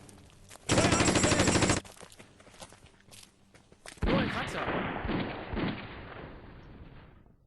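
A light machine gun squad fires in the Conflict of Heroes: Ghost Divisions strategy game, with one sustained loud burst of gunfire, then a quieter gap, followed by a longer, rougher stretch of battle noise.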